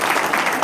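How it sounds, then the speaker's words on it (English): A crowd claps steadily, a dense wash of applause that fills the brief moment. "give yourselves a round of applause"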